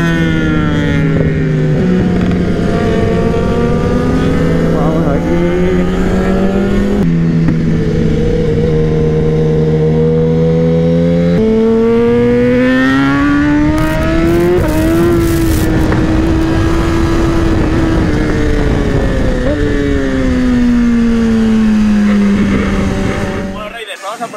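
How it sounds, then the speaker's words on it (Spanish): Loud, continuous roar of many motorcycles racing past on the Cartagena circuit, engines revving and shifting pitch as they go by, with a brief lull midway. "vienen muchísimas motos"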